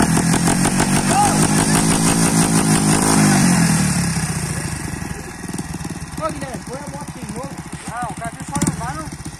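Motorcycles with 125cc engines rev and race, one fitted with a quiet exhaust, in a loud droning buzz that drops away and gives way to revving and shifting engine notes, with people talking over it.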